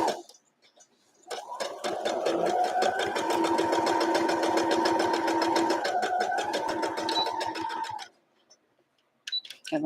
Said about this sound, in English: so I decided to go with sewing.